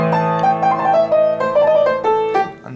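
Two-handed boogie woogie riff on piano, a walking bass line an octave down under right-hand chords, played steadily and loud with no talking.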